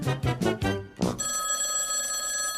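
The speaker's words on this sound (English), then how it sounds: "Sam, can you get that? It's the listener feedback phone." Four quick bursts of a bright electronic telephone ring on a podcast's listener feedback line, close and loud, followed by a sustained tonal hum as the ringing stops.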